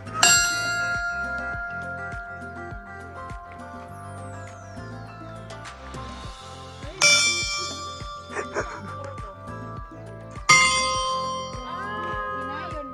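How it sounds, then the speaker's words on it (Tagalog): A large peace bell at the Chiune Sugihara Memorial Hall in Japan rings out three times, each strike leaving a long shimmering ring, amid background music and some chatter. "when you ring this bell, you have to declare peace"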